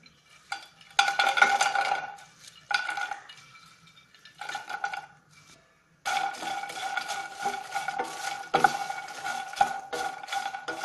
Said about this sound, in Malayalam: ഇനി നമുക്ക് ഈ പഫ്ഡ് ലോട്ടസ് സീഡ് ഒന്ന് ഡ്രൈ റോസ്റ്റ് ചെയ്തെടുക്കാം.